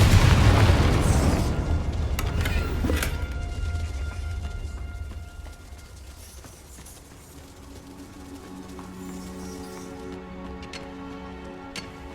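A Confringo explosion spell in the game Hogwarts Legacy bursts with a heavy close boom at the start, then rumbling debris and scattered ticks and pops fading under a lingering tonal hum.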